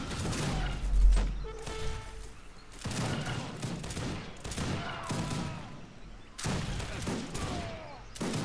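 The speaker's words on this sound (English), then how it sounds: "That's Grenadier volley there." Grenadier musket volleys in the Age of Empires 3 Wars of Liberty strategy game, a dense run of crackling gunfire bursts repeating every couple of seconds, with brief game tones and faint talk underneath.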